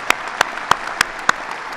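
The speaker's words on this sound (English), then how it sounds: "Let's give another round of applause to Craig from Griffin Sensors." Sparse, evenly spaced claps ring out, about one every third of a second, over a faint background hum with no voices.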